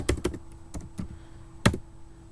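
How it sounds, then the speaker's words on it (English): Computer keyboard typing up close: a handful of crisp, separate keystrokes, with a quick pair at the start and another burst near the end, broken by short pauses. "I'm typing that in right now."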